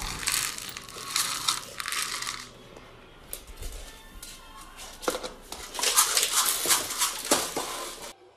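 A dog wipes its feet on a doormat before going indoors, giving bursts of scratchy rubbing and crinkling close to the microphone, broken by short pauses.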